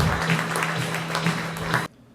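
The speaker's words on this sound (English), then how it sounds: "please give Al a big round of applause as he comes to talk with us tonight." An audience applauds a guest speaker taking the stage, with dense clapping and a few whoops lasting about two seconds before cutting off abruptly.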